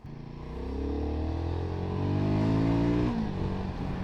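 Royal Enfield Guerrilla 450 motorcycle engine under way, revving up through a gear with rising pitch, then a quick shift and the note drops, loud and close throughout.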